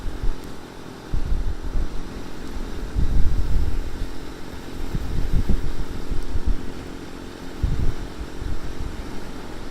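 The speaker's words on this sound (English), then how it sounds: "It's a pretty busy road for 8 in the morning" Vehicles go by on a busy road on a Sunday morning: a steady low rumble with several louder passes swelling and fading, heard from a motorcycle rider's point of view, with no talking.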